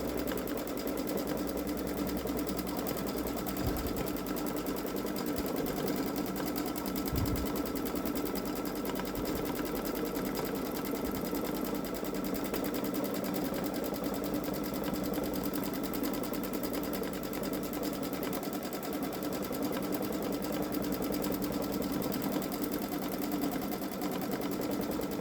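A Babylock Solaris Vision sewing machine stitches an edge-to-edge quilting design, its motor humming in a steady, continuous whir that stays close and even throughout, with a few soft low thumps.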